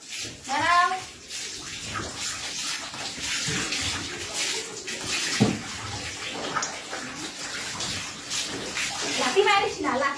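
Water splashes and gushes while a cow is bathed, with running water filling and slopping steadily throughout as people talk and call out over it.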